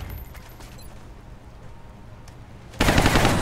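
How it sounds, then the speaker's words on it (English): Gunfire in the XCOM Long War video game: a sudden loud burst of rapid shots bursts out near the end after a murky background. "Move you there and take a shot."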